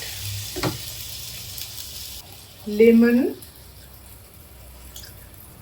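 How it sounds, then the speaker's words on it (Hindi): Water is poured into a hot pan holding coriander leaves during cooking. A steady sizzle rises into a brief, louder hissing surge, with a voice speaking around it. "देन हमें इमीडिएटली इसमें पानी डालना है।"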